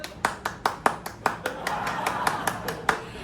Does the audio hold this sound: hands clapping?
yes